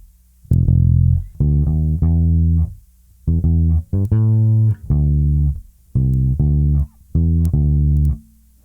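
Bass guitar plays a line from a song: a string of deep, round plucked notes in short groups separated by brief gaps, loud and up close with no talking.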